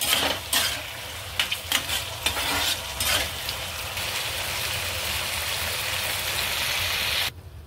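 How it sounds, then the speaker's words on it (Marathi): Prawns are stirred into a simmering green chilli gravy, with steady bubbling and sizzling under repeated scraping and clinking of a spoon against the pan, then an abrupt cut near the end. "आता याच्यात आपण हे प्रॉन्स टाकूया आणि प्रॉन्स छान याच्यात असे तर्रीमध्ये ना असे मिक्स करून घ्यायचे"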